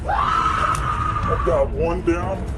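A woman's long, high, sustained scream in a police recording, loud and close, breaking into shorter anguished wails and sobbing cries toward the end.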